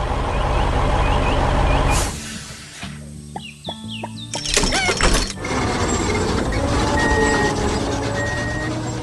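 A cheerful yellow bus in an animation rolls along with a loud engine rumble, then a sharp air-brake hiss and mechanical clanks, and the engine picks up again under faint chirps and beeps.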